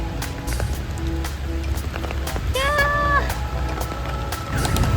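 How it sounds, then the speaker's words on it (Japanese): Steady rain falling in Ho Chi Minh City near Ben Thanh Market, a constant hiss of drops on surfaces. Street noise, scattered taps and a brief vehicle or animal cry sit on top of it. "めっちゃ雨降ってきた。"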